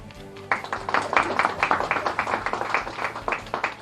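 Scattered audience clapping at an Indian public event, starting suddenly after a brief tonal lull and continuing as an uneven, rhythmic patter of hand claps from a modest crowd, fairly close and moderately loud with no talk over it.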